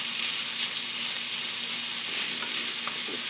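Food frying in a pan over high heat until golden brown, a steady close sizzle with faint stirring clicks near the end, no voices.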